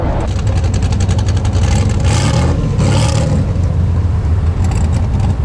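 Turbocharged 6.2 liter Camaro engine revs hard at a drag strip, a loud throaty roar surging up and down in repeated pulses, close and alone.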